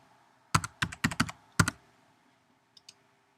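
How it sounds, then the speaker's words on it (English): Several crisp computer keyboard keystrokes enter a password, five or six close, distinct clicks in an uneven rhythm in a quiet room, followed by two faint taps. "let me just type my password in one more time"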